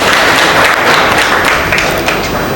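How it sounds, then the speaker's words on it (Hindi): Dense, steady applause from a seminar audience at a results event in Prayagraj, a continuous wash of many hands clapping at full loudness throughout, with no voices over it. "चलिए तालियां बजाते रहिए इनके लिए।"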